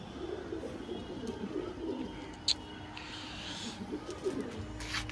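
Old-generation pigeons coo softly in low, rolling bursts, with a few brief chirps and faint background noise around them.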